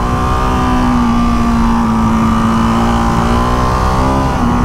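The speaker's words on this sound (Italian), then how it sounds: "il rumore dello scarico non è il massimo, ma quello del motore è veramente bello" A Ducati Hypermotard 698 Mono single-cylinder motorcycle engine idles and revs loudly up close, a steady throbbing drone with slight pitch changes throughout.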